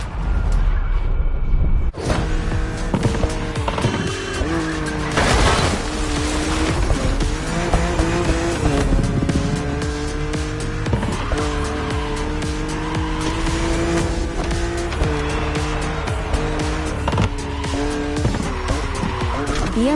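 A BMW Z roadster races against an aggressive opponent in a video game, its engine loud and continuous with changing pitch over squealing, skidding tires, starting after a brief quieter lead-in and holding steady to the end.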